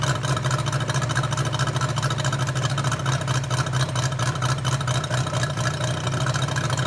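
A Moki 257 250cc seven-cylinder radial gas engine idles at about 1,000 RPM during a cold-start warm-up, a steady, loud, continuous throbbing drone with no pauses.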